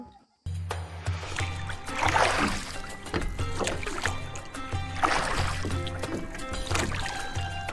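A boat rowed on water gives rhythmic paddle strokes and splashes, swelling and fading in repeated surges, under steady background rushing.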